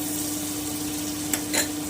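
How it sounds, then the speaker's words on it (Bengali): A soft, steady sizzle from a hot kadai on a gas stove as butter melts, with a faint utensil tap near the end, close by. "বাটারটা আমি একটু মেল্ট করে নিচ্ছি"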